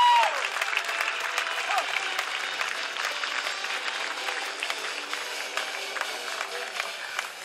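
A large crowd applauds at a beach volleyball medal ceremony in Manila, a steady, dense wash of clapping that continues throughout the clip.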